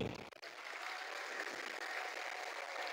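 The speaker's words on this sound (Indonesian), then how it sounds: "Berikan tepuk tangan untuk segmen debat hari ini." Applause from a large crowd of about 4000 students at a school orientation event follows a debate segment, a faint, distant, steady wash of clapping after a brief sound at the start.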